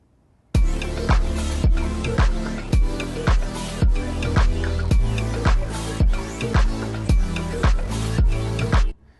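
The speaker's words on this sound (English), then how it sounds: "the chords and the bass and the drums all together sounds like this" A beat plays with punchy kick-driven drums, deep bass and chords together in a steady, pumping rhythm, loud and close throughout.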